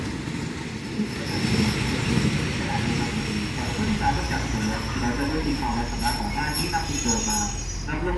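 A low, rumbling train idles and rolls through Thonburi Railway Station in Bangkok, with a steady mechanical drone and faint voices in the background.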